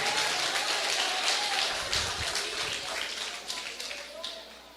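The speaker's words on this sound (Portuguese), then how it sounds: "Pode aplaudir o Senhor mesmo. Aplaude o Senhor." A church congregation claps together in a dense burst of applause with voices calling out among it, loud at first and gradually thinning and fading toward the end.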